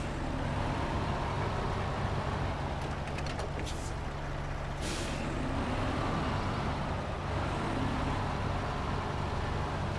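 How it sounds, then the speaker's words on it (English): A heavy truck idles nearby in a cluttered yard after a hurricane, a loud, rough, continuous diesel rumble with a short burst of hissing air midway, steady throughout with no voices. "This truck sounds pretty tough."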